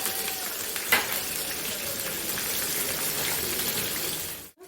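Green chilies and peanuts hit hot oil in a pan while cooking tomato rice, sparking a steady close-up sizzle with a sharp burst near the start that fades out abruptly at the end.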